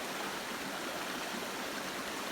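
A clear, wild brook trout stream, the Little Isabella River in Minnesota, flows steadily with a dense, even rush of water and no pauses, close and moderately loud throughout.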